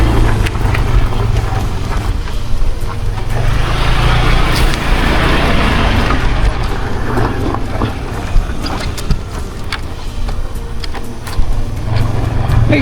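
Vehicle engine running steadily with a low drone while rolling over a dirt farm road, loud and continuous, with scattered knocks and rattles from the rough surface throughout.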